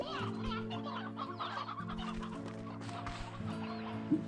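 Backyard breeding chickens cluck in a steady, close chorus, mixed with a low continuous hum and scattered bird calls.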